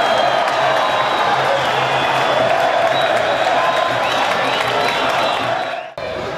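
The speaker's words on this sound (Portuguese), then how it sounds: "Festa da torcida palmeirense nas arquibancadas." Palmeiras supporters roar and cheer in the stands at a Copa São Paulo junior football match, a dense, loud, unbroken crowd wash with whoops and clapping that drops off abruptly near the end.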